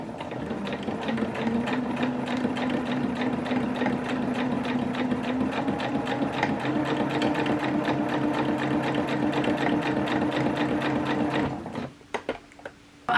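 A domestic sewing machine runs at a steady, fast rhythmic clatter for about twelve seconds while stitching French seams on dungarees, then slows and stops with a few final mechanical clicks.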